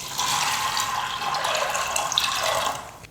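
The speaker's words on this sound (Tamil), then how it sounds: "தண்ணி கொஞ்சம் சேர்த்துட்டு குக்கர் மூடி போட்டு மூடி" A steady stream of water pouring and splashing into a metal pressure cooker up close, tapering off at the end.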